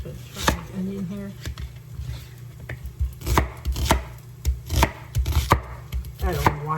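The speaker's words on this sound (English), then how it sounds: "I'm just gonna chop my onion here." A big cleaver chops an onion on a cutting board for a white bean soup, sharp knocks in an uneven run of about a dozen hits, close and fairly loud, with light kitchen noise between.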